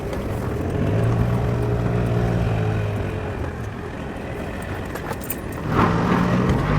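A Rover L-series diesel car engine with power issues runs steadily with a low rumble and faint harmonic hum, easing off midway and then revving briefly near the end.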